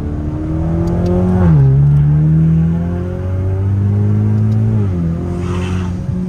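A Hyundai Kona N fitted with an SXTH Element downpipe pulls hard through the gears, the loud exhaust drone climbing in pitch, dipping briefly at each upshift, then rising again, heard from inside the car.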